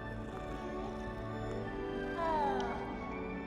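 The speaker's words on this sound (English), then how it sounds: "Oh, the putty cats." A cat meows once, briefly and in the mid-distance, inside the Hogwarts game, over a steady hum of background music and ambience.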